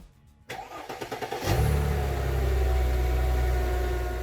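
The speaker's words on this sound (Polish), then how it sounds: "silnik pracuje względnie równo poza wypadającymi zapłonami" A Mercedes M111/M112/M113 engine cranks with a rapid chugging starter for about a second, catches with a roar, then settles into a steady, loud idle with occasional misfires, after an air flow meter replacement.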